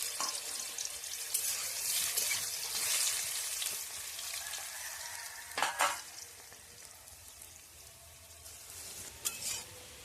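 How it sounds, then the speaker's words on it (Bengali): Potatoes frying lightly in hot oil in a wok, giving a steady close sizzle with occasional stirring scrapes and brief louder bursts. "এবার আলুটা একটু হালকা করে ভেজে নেব।"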